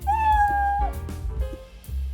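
A cartoonish cat meow sound effect in Scratch plays as a clear, close single meow with a gliding pitch, backed by a steady low background tone and brief clicks.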